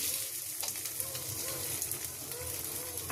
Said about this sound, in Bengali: এখন আমি পোলাও চালটা আলুর সাথে সুন্দর করে ভেজে নেব, লাল লাল করে